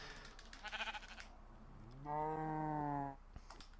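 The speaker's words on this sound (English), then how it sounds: "let's put the sheep in there" Sheep in the Minecraft video game give a clear, loud bleat of about a second with stacked harmonic tones, set between quieter game sounds and background noise.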